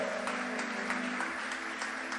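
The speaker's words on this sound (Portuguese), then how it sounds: "Pode aplaudir o Senhor mesmo." Church congregation applauding during a Portuguese-language sermon, a steady wash of clapping with faint rhythmic claps and a low sustained musical tone underneath, moderately quiet and fairly distant.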